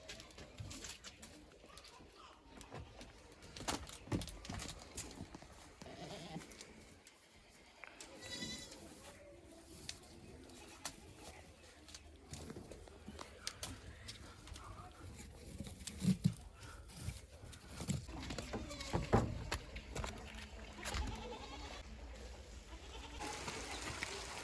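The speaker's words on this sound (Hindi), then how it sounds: "तो बकरियों को जल्दी जल्दी से ये वाली जो कोठी है इसके अंदर करते हैं" Goats bleat faintly during heavy rain as they are hurried into a shelter, with scattered calls over a steady wash of rain and background noise.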